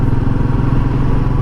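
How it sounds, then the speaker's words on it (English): Royal Enfield Continental GT 650 motorcycle with its standard exhaust makes a steady, even low engine drone with a fine pulsing rumble, loud and close with no other sound. "He's got the standard exhaust, so it is quite quiet."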